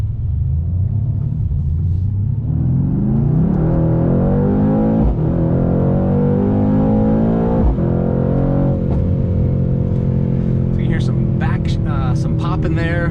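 A 2021 Mercedes-AMG C63 S Coupe's engine roars loudly as it accelerates through the gears on back roads, with the pitch climbing and dropping at shifts and crackling exhaust pops near the end.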